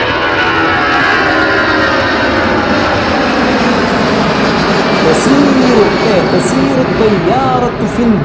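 An airplane flies overhead, a loud sustained engine roar that fills the scene for several seconds, steady in level, with people talking over it and a shifting tone toward the end.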